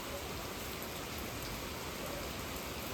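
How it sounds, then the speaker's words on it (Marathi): Morning rain falls in a soft, steady hiss throughout, distant and even, with no voices. "आज आहे नागपंचमी आणि सकाळपासून पाऊस बघा किती उंगावला."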